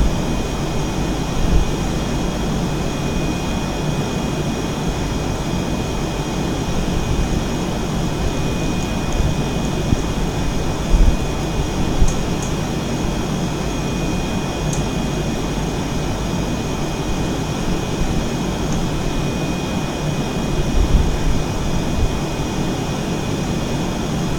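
A jet aircraft engine drones steadily and loudly in a flight video game as the plane makes its landing approach, a constant roar with a few faint tonal whines and no pauses.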